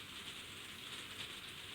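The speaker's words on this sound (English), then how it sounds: "it's raining right now in the conservatory" Steady rain patters on a conservatory roof overhead, a dense continuous hiss with no voices.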